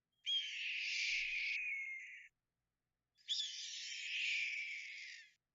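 Red-tailed hawk call from a video game: two long, harsh, raspy screams, each lasting about two seconds and separated by a short silence, loud and close with no other sound.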